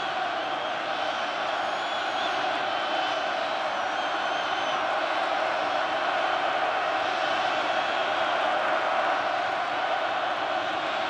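Large crowd at a 2016 World Series Game 5 between the Cubs and Indians, a steady, loud stadium roar of cheering and shouting that stays constant throughout, with a broadcaster talking over it.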